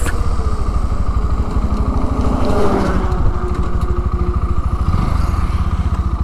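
A 2021 Bajaj Pulsar NS 160 BS6 motorcycle engine runs steadily up close, a loud, even rhythmic thrum throughout with no voices over it.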